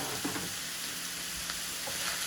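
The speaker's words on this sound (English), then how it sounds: "we're just gonna stir this around until we don't see the pink raw sausage anymore" Sausage fries in a pan and is stirred around, giving a steady soft sizzle with light scraping of the spoon, fairly quiet and close, no one speaking.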